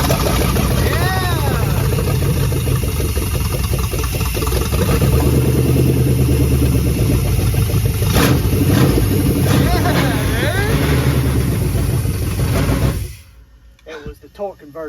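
A 1976 4x4 camper van engine runs and revs loudly up close, a steady rumble with surges, while people talk and shout over it, before it drops away near the end.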